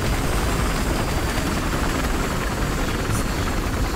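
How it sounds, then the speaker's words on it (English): Enemy helicopter in the video game Battlefield Hardline, a continuous loud rotor and engine roar droning steadily throughout without a break. "Watch for their helicopter, by the way."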